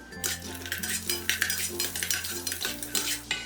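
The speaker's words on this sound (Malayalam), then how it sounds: "ആദ്യം നമുക്ക് കാഷ്നട്ട് ഫ്രൈ ചെയ്തെടുക്കാം" Cashew nuts fry over a low flame in a pan, a utensil scraping and clinking against the metal in a quick, irregular stirring rhythm over a soft continuous sizzle.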